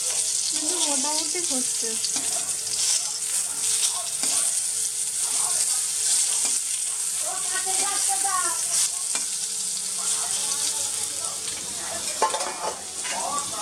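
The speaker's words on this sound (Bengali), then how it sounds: "দেখো অল্প তেলে বেগুন ভাজা হচ্ছে" Eggplant pieces fry in a little oil in a covered pan in a home kitchen, giving a steady close sizzle with stirring and utensil scrapes, while a voice speaks briefly.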